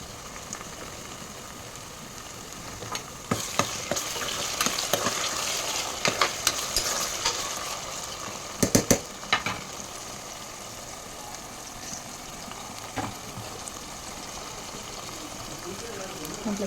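Ginger and garlic frying in hot oil as tomato goes in for a mutton curry: a steady close sizzle with scraping stirring strokes and occasional louder clatters, with a voice at times.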